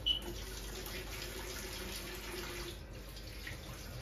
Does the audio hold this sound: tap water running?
yes